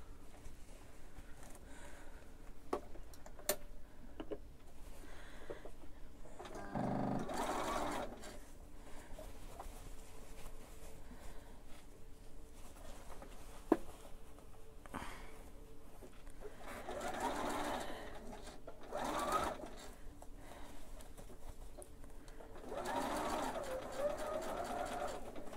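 A sewing machine stitches straight down the middle of a pressed seam on a monk robe, running in several short bursts with pauses between, fairly quiet, under a faint background hum.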